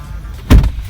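A single solid thud of a BMW car door shutting as someone climbs in, a short loud low-pitched slam standing alone over faint background hum.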